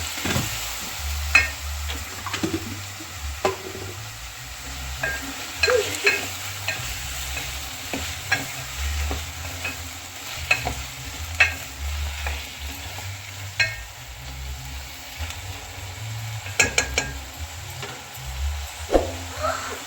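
Home-harvested brinjal curry fries softly in a pan while a spoon stirs and scrapes it in repeated knocks over a low, continuous sizzle, with no talking.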